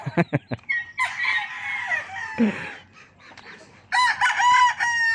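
A rooster crows on a backyard poultry farm, with a few sharp clucks first, then a long loud crow, and a second crow starting near the end.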